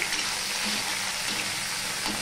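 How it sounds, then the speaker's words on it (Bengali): Okra and potato frying in a pan, a steady dense sizzle holding close and even throughout, with no voices. "আমি তো নুন দিয়েছি, এবার আমি এটা ভাজতে থাকবো।"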